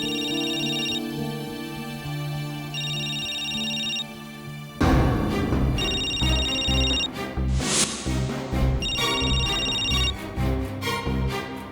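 An electronic phone ringtone repeats in regular bursts, with music swelling in partway through.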